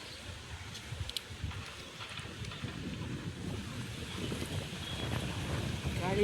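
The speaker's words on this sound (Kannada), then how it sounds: "ಗಾಳಿ ಬೇರೆ ಬೀಸ್ತಾ ಇದೆ" Wind blows outdoors in an orchard during apple tree grafting, a steady rushing buffet against the microphone that grows slightly louder over several seconds, with a voice faintly present.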